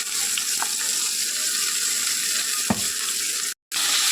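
A paste of ginger, garlic, onion and tomato fries in oil left from cooking chicken, making a steady loud sizzle with a few faint stirring knocks and a brief cutout near the end.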